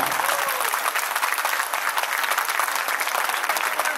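Audience at a school alumni meet clapping loudly and steadily for about four seconds, a dense, even applause from a large crowd close by.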